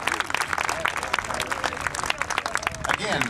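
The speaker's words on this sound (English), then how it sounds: "Let them hear your applause." A crowd applauds at a radio-controlled model jet show featuring F9F Panther models, with dense clapping running throughout while a voice talks over it.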